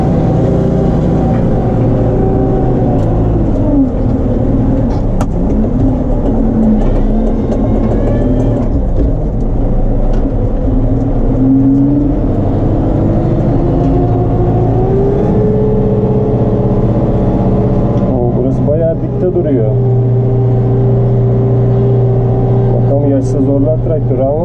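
A Case JX110 tractor plowing a wheat field, its engine a steady loud drone that shifts pitch as it labours under load, with a person talking over it throughout.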